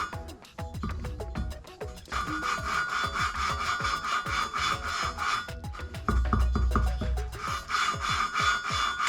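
A valve is lapped into a Ford Focus ST/RS cylinder head, making a continuous gritty rubbing and rasping sound with a steady back-and-forth scraping rhythm, close and fairly loud.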